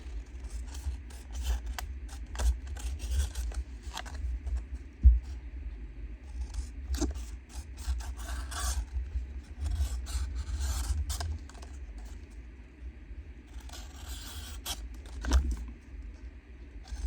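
Scissors cut out a paper journalling card at close range, with repeated soft snipping and rustling strokes over a low background hum.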